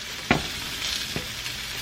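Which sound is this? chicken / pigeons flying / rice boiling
rice boiling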